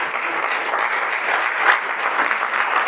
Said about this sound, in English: Round of applause for everyone who raised their hand.